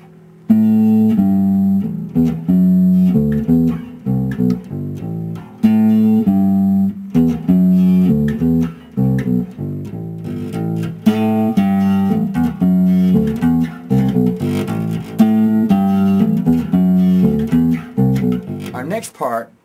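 A bass guitar plays a riff, a repeating pattern of clear, plucked low notes in a steady groove, loud and close with no voice over it.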